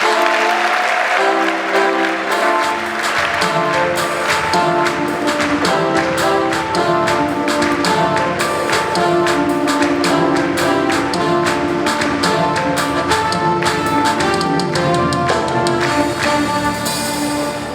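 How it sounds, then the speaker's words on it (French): Congregation applauding during a Sunday Mass in church, with sustained clapping over organ or instrumental music that plays loudly throughout. "On peut les applaudir pour les applaudir."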